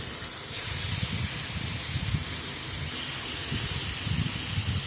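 Hilsa fish pieces dropped into hot oil in a wok, bursting into a loud, continuous hissing sizzle with a sputtering, bubbly texture that holds steady throughout.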